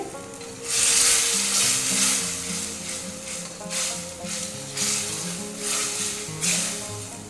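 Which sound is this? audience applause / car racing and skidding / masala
masala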